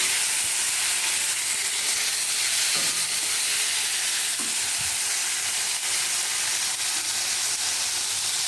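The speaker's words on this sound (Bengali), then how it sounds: "এবার এই কেটে রাখা টমেটোটা এই তেলের মধ্যে আমি দিয়ে দেবো।" Chopped tomato fries in hot mustard oil with panch phoron for a fish curry, giving a steady, dense sizzle close by with a few faint stirring taps and no voices.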